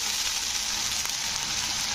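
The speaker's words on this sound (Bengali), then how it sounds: "তো আদা জিরে বাটা দিয়ে এটাকে 2 থেকে 3 মিনিট মতন কষে নিতে হবে।" Ginger-cumin paste frying in a pan for Bengali bottle gourd and prawn curry, giving a steady, loud, close sizzle that runs unbroken throughout, without any voices.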